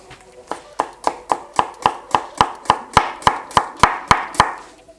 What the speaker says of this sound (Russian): Нарезку овощей делаем очень тонкую.